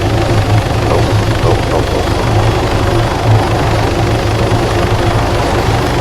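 Helicopter in the Arma 3 video game setting down on tarmac, a loud, continuous rotor thump and turbine roar with a steady rhythmic chop, close and constant with no talking.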